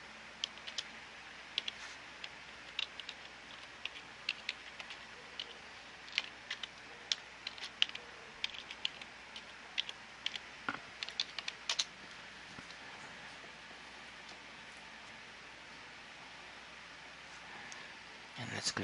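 Someone types an administrator password on a computer keyboard while logging in to a server: a quick, irregular run of light key clicks over a quiet room, fading out toward the end.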